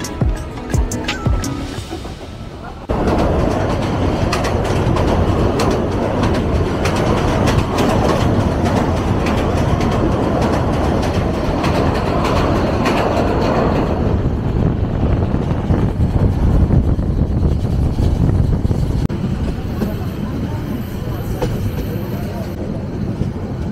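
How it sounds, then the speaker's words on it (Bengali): A passenger train pulls into Narsingdi railway station: a loud, close rumble with rattling carriages and clacking wheels builds after a quieter start and rolls on steadily, easing slightly toward the end. "আমাদের ট্রেন প্রবেশ করছে নরসিংদী রেলওয়ে স্টেশনে।"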